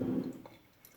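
Filter coffee dripping, a brief soft liquid trickle and patter, close and quiet, fading over about a second.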